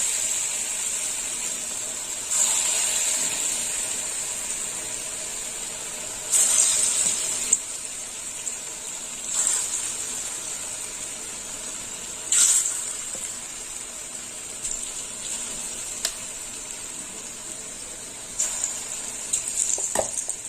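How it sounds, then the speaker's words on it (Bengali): Large fritters (bora) of chana dal and papaya fry in hot oil with a continuous bright hiss, swelling in louder bursts every few seconds as batter goes in, close and without speech. "একটু বড় বড় করে বড়া ভাজবো এইভাবে বড়াগুলো ভেজে নিতে হবে"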